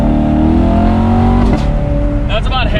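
A 2017 Chevrolet Corvette Grand Sport C7 engine revs to about half throttle, a loud, close, deep rising roar that holds and then drops off abruptly, with a few crackling pops at the end.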